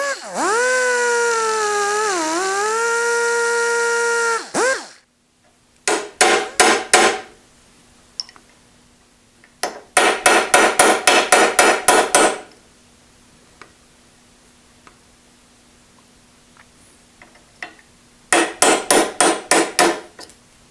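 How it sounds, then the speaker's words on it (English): A pin being hammered out of the turned-down lead screw of an Avery No. 1 drill press, with one long grinding whine followed by three bursts of rapid, loud metal-on-metal hammer blows separated by quiet gaps. "I'm going to grind that side off and drive it through."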